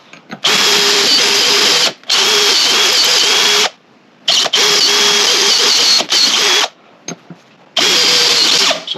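Power drill fitted with a countersink bit widening the backs of four holes in a Classic Mini Cooper S disc brake part, running in five loud sustained bursts separated by short pauses.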